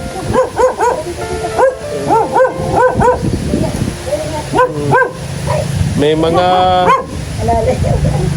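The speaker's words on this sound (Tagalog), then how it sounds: "Yung aso kasi kapag may anak yung matapang yan" A mother dog with four puppies yaps and barks repeatedly in quick bursts, some high and whiny, close by, with people talking over a steady background hiss as rain begins.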